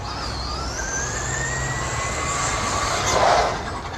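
Traxxas Slash 2WD RC car driving at half power, a high electric motor whine sweeping upward and holding steady as it passes, over a rough rumbling background, with a brief louder burst near the end.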